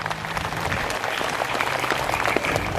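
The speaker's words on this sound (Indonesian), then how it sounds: "tepuk tangan dulu, enggak apa-apa." Crowd applause at an Islamic religious gathering with sermon and sholawat, sustained close clapping throughout with a faint low hum underneath.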